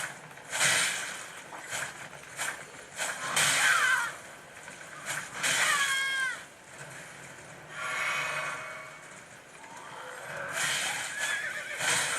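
Several loud horse neighs and whinnies ring out one after another in the video game Elden Ring, separated by short gaps, with faint background noise and no talking.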